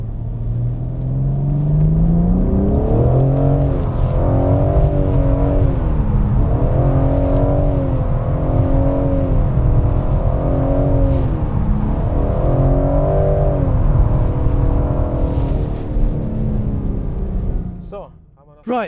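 A BMW M3/M4 drifting with traction control off, its engine droning and rising and falling in repeated revving surges over a loud rumble, heard from inside the car for most of the clip before it fades at the end.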